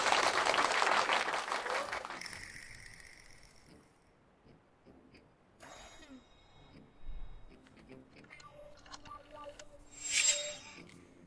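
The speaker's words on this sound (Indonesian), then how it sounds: "tepuk tangan" A short burst of audience applause opens, fairly loud for about two seconds before dying away, followed by quiet room sounds and a few faint scattered noises.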